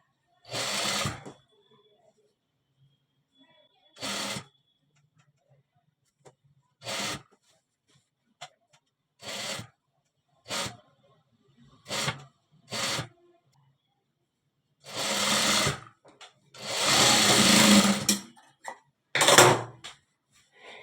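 Sewing machine stitching a frock, running in short separate bursts of rapid mechanical whirring with silent pauses between, the longest run near the end; close and fairly quiet.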